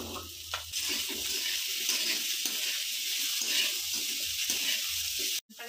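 Potatoes go into hot oil already frying carrots, giving a loud, steady sizzle with a bright hissing crackle that runs throughout before cutting off abruptly near the end.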